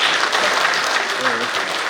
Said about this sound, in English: Please, a round of applause for that robust